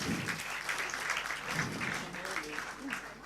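A crowd claps steadily in a sustained burst of applause at a closing ceremony, moderately distant, with voices murmuring underneath.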